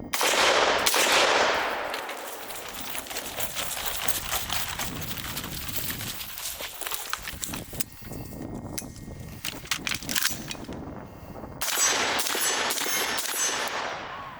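Gunshots during a shooting range drill, sharp loud cracks scattered across the clip, a couple near the start and more near the end, with footsteps and rustling between them.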